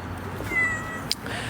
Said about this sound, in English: A lot of abandoned cats. A lot of stray cats.